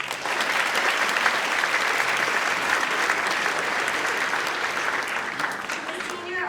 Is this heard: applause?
yes